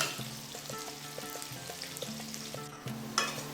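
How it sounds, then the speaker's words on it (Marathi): Thinly sliced onion frying in hot oil, a steady broadband sizzle with faint background music tones and occasional stirring clinks, close and moderately loud throughout. "या तेलामध्ये आपण हा एक कांदा पातळ चिरून घेतलेला आहे तो आपण तळून घेणार आहोत"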